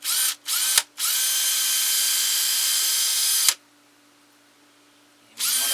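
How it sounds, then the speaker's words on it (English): An electric drill with a 1/8 inch bit bores into wood for a ventriloquist figure, starting in two short bursts, then one long steady whine before stopping and starting again near the end. "So I'm using an 1/8 inch drill bit to drill down through here."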